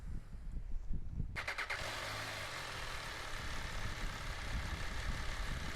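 An MV Agusta Brutale 800 Dragster motorcycle cranks briefly and fires up, then settles into a steady idle with a fairly quiet outdoor background, heard from nearby without talk.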